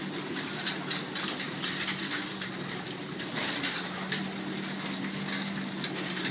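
Racing pigeons in a large loft coo softly amid constant rustling and fluttering, a busy, close flock murmur with scattered sharper scratches and no talking.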